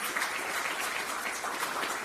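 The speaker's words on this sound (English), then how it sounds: "Applause for Dr. Arha" Audience applause for a panelist, Dr. Arha, at a Belgrade forum, a fairly soft, even wash of many hands clapping with no talk over it.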